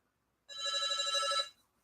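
A telephone rings once in a short, clean burst of bright electronic trilling, about a second long, close and alone with near silence before and after.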